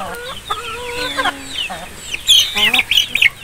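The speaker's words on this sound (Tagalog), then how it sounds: "Mga manok ni Kakay" Chickens cluck and squawk close by, a busy cluster of overlapping calls that grows louder and more excited toward the end.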